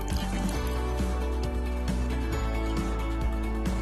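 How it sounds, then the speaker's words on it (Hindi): Chopped vegetables for steamed veg momos are squeezed by hand to press out their water, giving repeated wet squishes and drips in an uneven rhythm, close and fairly loud. "इसको बहुत मजबूती से टाइट से थोड़ा पानी निचोड़ लेंगे।"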